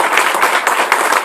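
Steady applause from a graduation audience in Inglewood, honoring Congresswoman Maxine Waters, with dense overlapping claps filling a short, continuous stretch.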